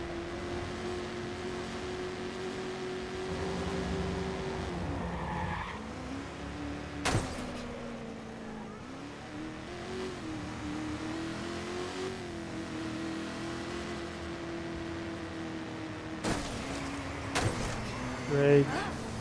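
Car engines rev and accelerate in the Watch Dogs video game while vehicles dodge traffic and drift sideways. Rising and falling engine tones run throughout, with a few sharp impacts and a voice talking over them.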